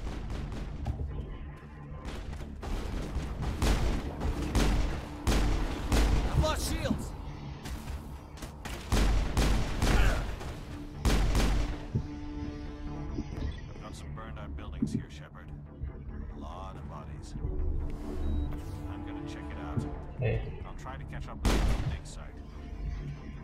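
Repeated sharp gunshots ring out in bursts from shooting in the video game Mass Effect, loud and close, with someone talking over and between the shots.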